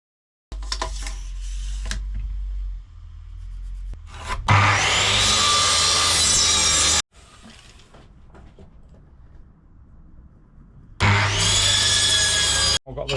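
A handsaw cutting through timber lengths for a lap joint in a DIY roof build, heard as close, loud bursts of rasping strokes separated by quieter pauses.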